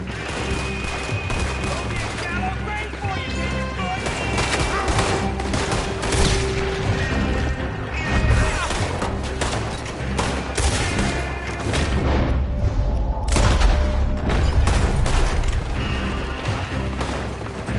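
Sustained gunfight in Red Dead Redemption 2, dense overlapping rifle and pistol shots with booming impacts across the whole stretch, loud and close, with shouting voices mixed in.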